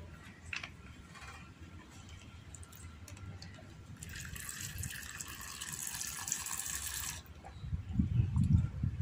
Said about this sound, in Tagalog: Lagyan natin ng muriatic acid.